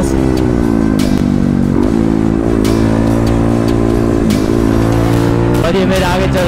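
Group of motorcycles revving and riding off loudly at the start of a ride, dense overlapping engine roar close by, steady and continuous throughout.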